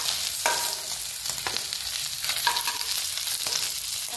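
Fish deep-frying in hot oil in a rustic village kitchen, a steady broadband crackle and sizzle with brief louder spatters roughly once a second, close and alone without any voices.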